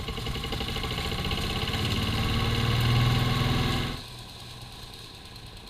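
Craftsman four-in-one yard vac with its small engine running loud and close, a rough buzzing drone that swells slightly before dropping sharply to a lower, quieter idle near the end; no voices.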